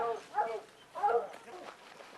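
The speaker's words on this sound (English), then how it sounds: "You can hear the dogs in the background." Hunting dogs barking and yipping at a black bear treed in the woods, with excited, uneven bursts that sound somewhat distant and mid-level.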